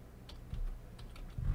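Keystrokes on a computer keyboard as a root password is entered during an OpenMediaVault setup on a Raspberry Pi: several quick, close clicks spaced unevenly, with a heavier thump near the end like the enter key, no talking.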